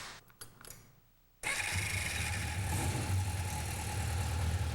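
An old 550 ES motorcycle engine cranks and catches after a brief quiet pause, then settles into a steady, loud, rumbling idle up close.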